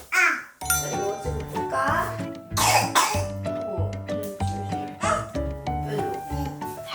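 A 20-month-old toddler coughs a few times over a busy background of jingling, plinking toy music that plays throughout.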